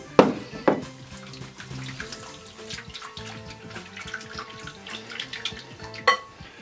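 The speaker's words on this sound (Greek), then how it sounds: "Θα προσθέσω λίγο νερό." Water splashes and trickles into a bowl of dough mixture in a home kitchen, with a couple of sharp clinks and splashes early, then a softer, steady pour and one more splash near the end.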